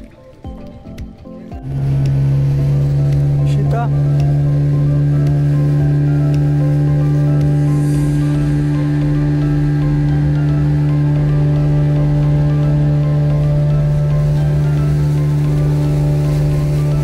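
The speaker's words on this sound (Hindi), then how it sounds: "अब हम बैठ चुके हैं अपनी बोट पे एलिफेंट बीच पर जाने के लिए।" Boat ride out to Elephant Beach on Havelock Island in the Andamans, with a steady loud motor drone that settles in after a brief start and holds continuously throughout.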